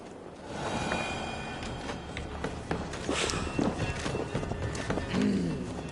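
A horse in the Viking-era game AC Valhalla clip-clops along at a steady trot, hooves thudding close and clear, with a brief whinny near the end and a faint voice underneath.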